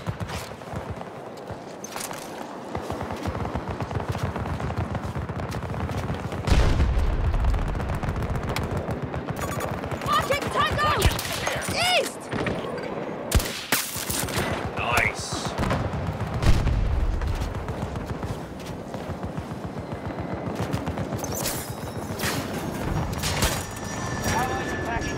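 Dense gunfire in the video game Battlefield 2042, with bursts of automatic fire and heavier blasts at varying distances running nearly nonstop, while players talk over the shooting.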